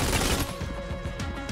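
Rapid gunfire from enemy square-shaped turrets spraying bullets in the roguelike shooter Enter the Gungeon, a dense rattling barrage that stays loud and busy throughout, heaviest at the start.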